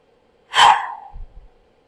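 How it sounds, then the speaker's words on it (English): A single sharp exhale of breath during a guided healing exercise, a short rushing burst followed by a fainter low breathy tail, close and alone against silence. "Deep inhale breath and then hold. And a sharp exhale breath."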